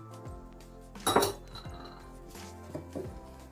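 A spoon stirs a milk and wine vinegar mixture in a pot, making soft metallic clinks and scrapes, louder for a moment, over quiet background music.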